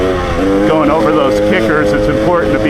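Dirt bike engine held on the gas while riding over kickers on a trail, a close, steady motor drone under someone talking throughout.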